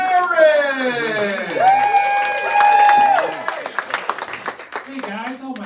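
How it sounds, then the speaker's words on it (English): A comedy club audience at Stevie Ray's Comedy Cabaret claps and cheers to welcome the stand-up host. Sustained tones and a voice fill the first seconds, then a burst of close clapping and whoops follows. "Please put your hands together for your host tonight"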